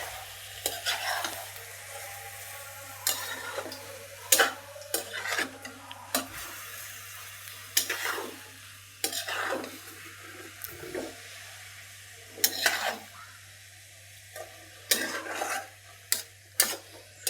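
Food is stirred in a pan on the stove, with repeated metal spoon scrapes and clinks in irregular bursts over a low sizzle and a steady background hum.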